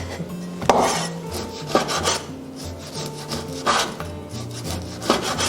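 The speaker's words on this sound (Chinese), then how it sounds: "接下来我们把腊肉改刀一下" Cured Chinese pork being cut with a knife on a wooden board, a run of rubbing, rasping strokes close by with scraping slices repeating every second or so, no voices.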